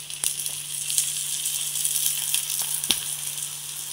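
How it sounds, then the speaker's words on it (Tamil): Oil sizzles steadily on a rice flour roti cooking in a pan, a soft continuous hiss with a few faint ticks and pops, no voices. "இப்போ நம்ம லைட்டாக எண்ணெய் ஊற்றிக்கணும்."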